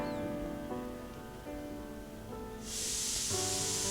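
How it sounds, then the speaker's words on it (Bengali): Chicken with coriander fries in a pan as it is stirred, a soft sizzle that swells into a louder, bright hiss partway through. "আমি খুব ভালোভাবে মাংসটাকে কষিয়ে নিচ্ছি।"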